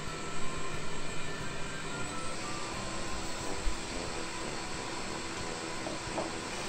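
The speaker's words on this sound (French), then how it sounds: "Vous commencez par fouetter les blancs en neige en augmentant la vitesse progressivement" An electric mixer whisks egg whites for French meringue, giving a continuous steady whirring hiss with no talk.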